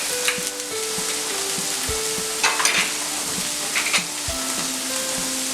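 Pizza puff filling with black pepper, sugar, chili sauce, tomato ketchup and salt sizzles steadily in a hot pan while a utensil stirs and scrapes it in short strokes, close up with no speech.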